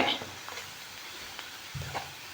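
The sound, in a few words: prawn and brinjal frying in a pan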